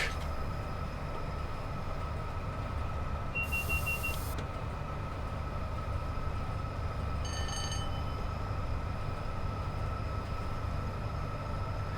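A train runs along the West Coast Main Line between Preston and Carlisle in the Train Sim World video game, a steady rumbling rail drone with a constant hum, a brief electronic tone and a few faint beeps.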